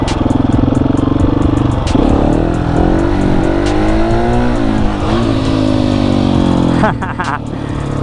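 A 701 motorcycle engine revving in first gear during a wheelie attempt, loud and close with a rising, wavering throttle note, partly under a man's speech.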